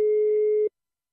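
Telephone line calling tone, a single steady electronic beep sounding clearly and alone for about two-thirds of a second before cutting off into silence.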